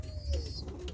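A capuchine pigeon in a Jamaican breeding loft gives a brief low coo, close and moderately loud, with faint higher whistling and background hum around it.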